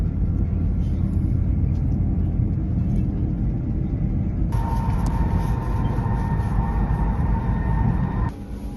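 A high-speed bullet train in China runs with a steady, loud rumble of wheels and cabin noise, a high tone entering partway through before the sound drops slightly near the end.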